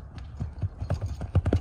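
Hooves of a heavy, well-fed horse clip-clop on a trail in rural Kyrgyzstan, a quick series of close, moderately loud thuds with no talk.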